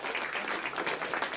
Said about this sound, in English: In the room there at the Jet Propulsion Laboratory erupting in applause.